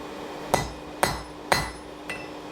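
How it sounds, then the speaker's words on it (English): Blacksmith's hammer forging a point on hot metal against an anvil: four sharp, ringing strikes roughly half a second apart, the last one softer, close and clear with no talking. "what we're going to do here is forge a point on your metal"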